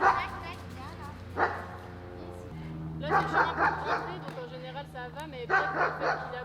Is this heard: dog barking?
yes